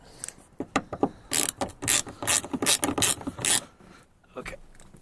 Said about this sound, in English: I'm gonna break the mirror with the ratchet